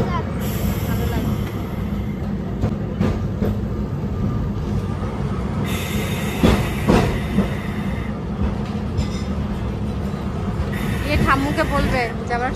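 A Kolkata tram rolls along its rails with a continuous rumble, rhythmic wheel clatter and occasional squeals and knocks, heard from inside while passengers chat throughout.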